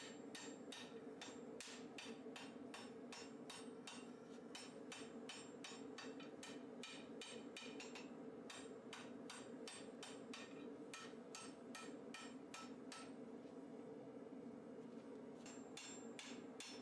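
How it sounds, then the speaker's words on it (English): Hammer blows ring on steel over an anvil while forging a katana blade, dozens of sharp metallic strikes in fast regular runs broken by brief pauses, close and clear with no one talking. "I use the edge of the anvil to produce a nice sharp line, delineating this section from the next one."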